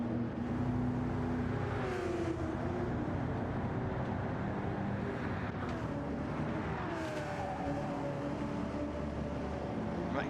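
A V8 Supercar in Gran Turismo 7 driving into the pits, engine note rising and falling through gear changes at moderate distance, with other cars droning by in the background.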